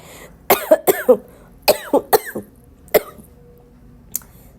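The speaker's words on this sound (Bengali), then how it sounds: "প্রচণ্ড কাশি, কিচ্ছু করার নেই" A person coughs in close, loud bursts, two quick clusters of three or four harsh coughs followed by a single cough and a fainter one near the end, with quiet between.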